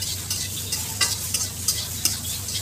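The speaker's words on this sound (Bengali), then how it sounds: "তারপর 2 থেকে 3 মিনিটের মতো নাড়াচাড়া করতে থাকবো।" Water lily stems with salt and turmeric sizzle steadily in a hot pan. A spatula stirs and scrapes them in a loose rhythm of sharp strokes, close and fairly loud.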